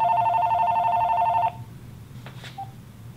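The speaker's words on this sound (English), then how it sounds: "right now I gotta answer the phone" A telephone rings with a steady electronic tone for about a second and a half, loud and close, then cuts off, followed by a couple of faint clicks and handling noises in a music shop.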